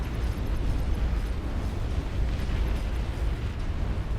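Torpedoes in the real-time strategy game Beyond All Reason set off a continuous rumbling barrage of deep, overlapping underwater explosions during a large naval battle, loud and dense throughout.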